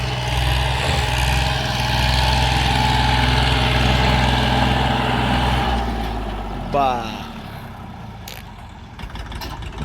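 A heavy tractor engine drones steadily and loudly, then fades somewhat partway through as other faint noises and movement take over.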